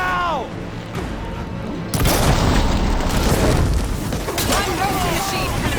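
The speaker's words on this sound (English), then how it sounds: "Firing now!" Weapon fire and heavy explosions from Horizon Forbidden West, loud booming blasts with a sustained rumbling roar after an initial hit, mixed with game effects and voices speaking.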